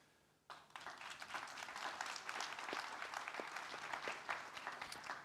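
Conference panel audience breaks into sustained applause after a brief quiet start, dense clapping continuing steadily at moderate distance with no talk over it.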